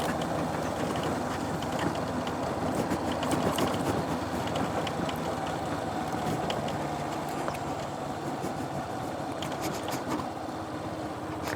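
Motorcycle engine heard from inside a sealed helmet on a rural road, a steady loud mechanical drone with rattling, clicking texture running continuously throughout, no voices.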